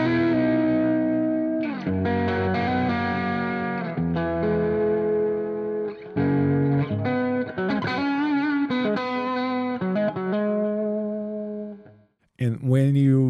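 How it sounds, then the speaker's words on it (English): Electric guitar through an amp simulator on a Hammer Cab 4x12 captured with a 421 microphone, unfiltered, plays distorted chords and riffs loudly and continuously with brief pauses, ending in a short burst after a near-silent gap. "The sound of the amp without the filter is something like this."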